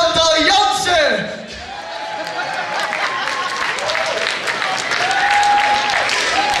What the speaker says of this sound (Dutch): Geef een groot applaus voor Chantal Jansen!